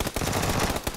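Loud, close gunfire from the battle royale game PUBG, with dense, rapid crackling shots running through the whole second and sharper bursts near the end.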